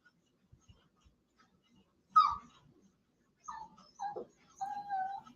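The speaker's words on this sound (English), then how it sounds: "What breed dog is that? You hear her back there? Yeah. That's a Maltese" A small Maltese dog, a six-pound female, gives a few faint whimpering yelps in the background, spaced apart amid quiet room noise and light tapping, with no one speaking over them.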